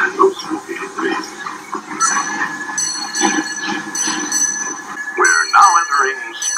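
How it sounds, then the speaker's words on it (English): A Disneyland Railroad train rolls along its track with a steady rumble, metallic wheel squeal and faint ringing tones throughout, while an announcement voice speaks over it. "Please stay seated while the train is moving with your hands and arms inside."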